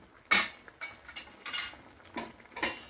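A metal lid set onto a pan of cooking tomatoes makes a loud clank, then several lighter scrapes and taps as it settles, all close and without speech.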